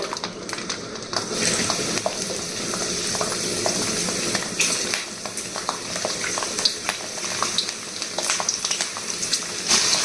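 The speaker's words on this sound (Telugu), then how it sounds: "ఇది వేరుశనగ నూనె అండి ఈ నూనెలోనే నేను పోపు వేసేస్తున్నాను" Tempering spices crackling in hot peanut oil for an amla pickle, a loud continuous sizzle with dense popping and scattered sharp spits throughout.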